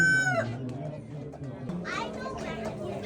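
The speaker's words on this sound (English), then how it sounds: "So there are obviously a lot of chickens because it is a chicken auction." Chickens at a crowded poultry auction, with a rooster crowing loudly at the start and more crowing and clucking around it, close by, over a murmur of people talking in the background.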